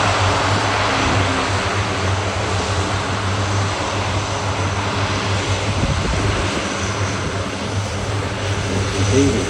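An RAAF C-130 Hercules turboprop drones steadily on the runway at the Avalon Australian Airshow, a loud, sustained propeller roar that stays constant throughout, with faint commentary underneath.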